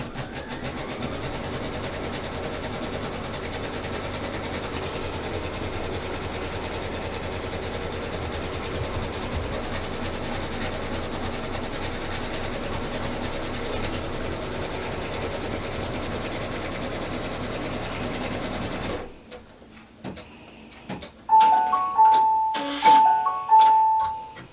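A sewing machine runs a long, steady placement stitch on a fabric basket panel, a loud continuous mechanical whir, then stops and gives a few short bursts amid clicks and handling sounds.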